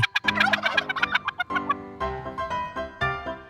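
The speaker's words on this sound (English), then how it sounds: "Turkey." A turkey gobbles loudly and close by, a rapid rattling burst followed by several shorter warbling calls, heard alone without speech.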